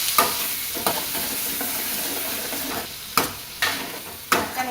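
Tomatoes sauté in a hot pan for an okra tamarind curry, giving a steady sizzling hiss with a few sharp spatula scrapes at irregular intervals.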